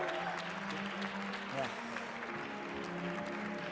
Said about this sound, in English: one more time, a big round of applause